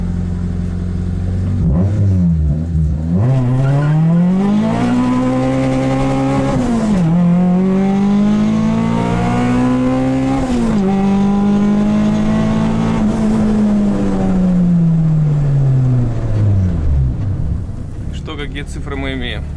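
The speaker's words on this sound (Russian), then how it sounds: "мы сейчас будем мерить динамику разгона этого автомобиля до 100 км в час" A Honda Civic accelerates hard from a standstill toward 100 km/h on asphalt, its engine note climbing loudly through the gears with brief dips at each shift, close and dominant throughout.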